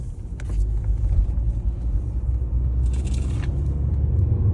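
A 2010 Mercury Milan drives on industrial back roads, its engine a steady low rumble close to the cabin, with a brief higher-pitched swish partway through and no voices.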